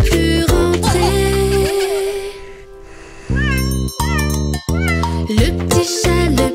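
A cartoon cat meows repeatedly in a lively children's song, the cries sliding up and down over bouncy music with a steady beat.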